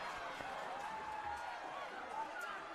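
Spectators at an MIAA quarterfinal high school lacrosse game keep up a continuous roar of cheering, a fairly faint, distant wash of crowd noise under a talking voice.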